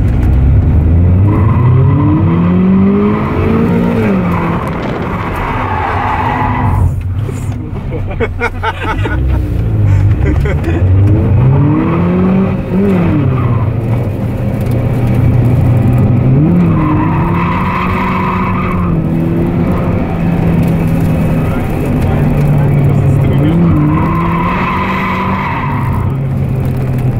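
A newly built race car revs hard up close with its engine pitch climbing and dropping through gear changes, while long tire squeals and skids sweep through the run and a voice speaks at times.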